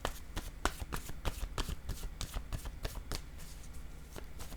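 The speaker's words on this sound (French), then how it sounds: "Ici, je vais piger une carte" A deck of cards being shuffled up close, a rapid run of crisp, evenly spaced riffling snaps that continues steadily without any talking.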